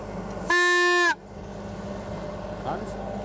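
A single loud, buzzy horn blast lasting about half a second, followed by quiet room noise.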